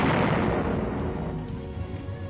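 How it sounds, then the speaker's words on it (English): A war-documentary effect of artillery and mortar shell explosions: one heavy, booming blast at the start rolls into a dense, rumbling decay that fades gradually over two seconds. "they're dropping those mortars and artillery shells on you"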